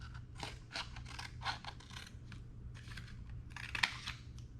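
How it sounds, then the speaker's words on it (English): Scissors snip straight down the center of a paper craft narwhal, a run of soft, close crisp cuts and scrapes at low level, with no talking. "you take your scissors one more time, and you cut right down the center"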